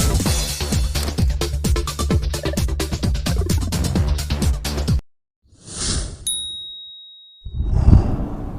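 A bright notification bell dings after a stretch of music, followed by a ringing metallic tone that lingers and fades, then a low thump near the end.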